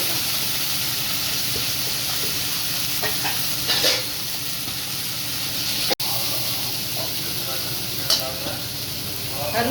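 Mint and coriander sizzle and fry in a pan while being stirred for mint rice, a steady hiss broken by a few scraping stirs, with no voices.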